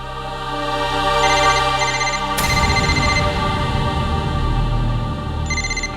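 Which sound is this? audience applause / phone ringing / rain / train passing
phone ringing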